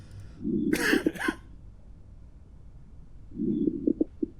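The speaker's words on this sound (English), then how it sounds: "That's just regular coughing." Two separate bursts of video game coughing, a harsh hacking fit followed a few seconds later by a shorter one, close and clear over a quiet background.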